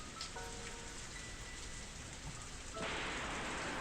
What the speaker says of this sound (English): I hear thunder again.